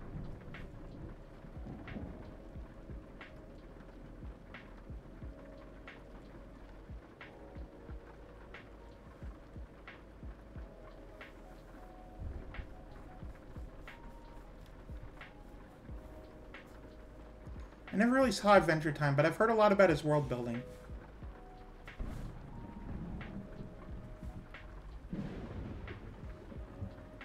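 A loud crack of thunder with a rolling rumble bursts out midway, set against a faint steady rain-like hiss while a person keeps talking throughout.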